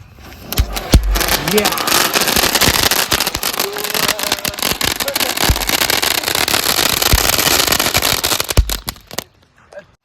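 Dense, continuous crackling bursts of Diwali firecrackers going off in rapid succession, loud and close, fading out at the end.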